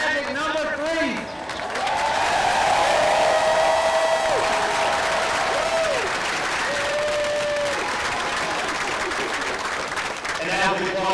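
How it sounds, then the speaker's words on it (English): A large outdoor crowd at a Gamecocks national championship parade cheering and applauding loudly and continuously, with whoops and whistles rising above sustained clapping. "Let's stand up and let's cheer for our national championship magic number 3."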